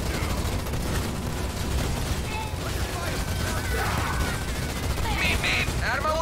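Continuous battlefield gunfire from ground troops in the strategy game Halo Wars 2, a dense, steady rattle and rumble with voices talking over it.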